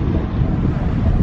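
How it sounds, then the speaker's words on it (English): Strong beach wind buffeting a microphone fitted with a wind muff, a steady loud low rumble with no voices. "Let me just show you how windy it is."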